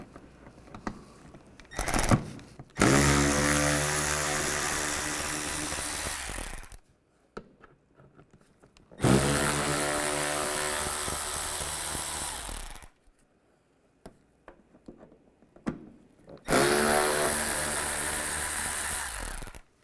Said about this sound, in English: Now from the side, we're going to take off these 3 screws. Use the same T20 socket.